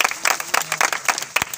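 A short, lively burst of applause from a small crowd at an army running race prize distribution, with quick overlapping claps.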